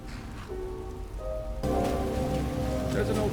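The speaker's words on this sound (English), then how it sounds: "Ah, damn it. It's raining." Steady rain falls in Skyrim, a hiss of drops on surfaces that gets heavier halfway through. A faint voice and some musical tones sit underneath it.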